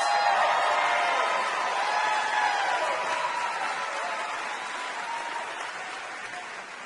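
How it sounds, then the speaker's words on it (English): A studio audience at a live quiz show cheers and applauds, a loud burst of clapping and whoops that slowly fades across several seconds. "You get a little cheer just for saying Lady Vols."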